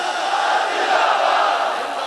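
A large crowd at a religious conference in Faisalabad chants a slogan in unison, a loud sustained roar of many voices lasting about two seconds.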